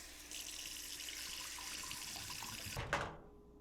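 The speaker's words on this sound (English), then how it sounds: "I always believe that you should wash your vegetables." Vegetables rinsed under a running kitchen tap, a steady close hiss of flowing water that stops abruptly near the end with a brief clunk, no voices.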